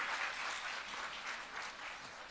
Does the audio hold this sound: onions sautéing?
no